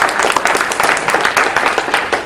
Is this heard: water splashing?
no